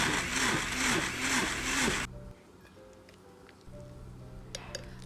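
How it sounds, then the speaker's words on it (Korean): A blender whirs loudly with a pulsing, churning grind of soaked chickpeas and a cup of water for about two seconds, then stops abruptly, leaving a quiet room with faint clicks and ticks. "물 한 컵 추가해서 믹서에 갈아주세요."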